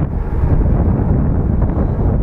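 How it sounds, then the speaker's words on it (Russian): Wind roars into the microphone of a rider on a fixed gear bike during a night ride, a loud, constant buffeting rush with no pauses. "вообще ветер реально, типа, дул в лицо, потом сбоку, потом снова лицо"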